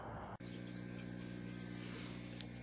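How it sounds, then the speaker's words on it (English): Water running from a small pump through a hose into home fish room tanks, a steady low hum and continuous flowing wash after a brief click at the start, with no talking. "This is how I'm filling up my tanks."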